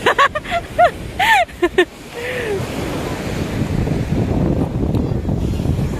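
Sea waves washing onto a beach near Mayon volcano, a steady rushing surf with wind buffeting the microphone, preceded by a few brief voices at the start before the waves continue alone.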